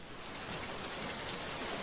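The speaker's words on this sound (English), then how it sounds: "The sound of rain always makes me so sleepy." Rain falls steadily in a visual novel game, a soft even hiss of drops with a brief sharp tap at the end, no voices.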